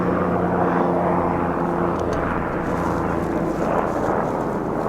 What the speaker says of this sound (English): Helicopter sounds like.